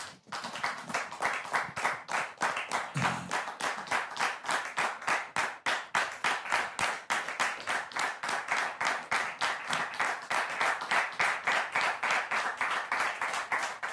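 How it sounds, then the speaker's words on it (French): A crowd applauds steadily, dense clapping sustained at a constant level from start to finish. "merci de recevoir l'époux de Dame Mélissa sous vos applaudissements, s'il vous plaît."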